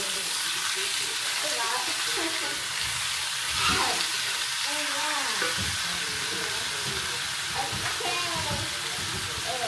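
Meat frying in hot oil, crackling and hissing continuously and close up, with voices talking over the sizzle throughout.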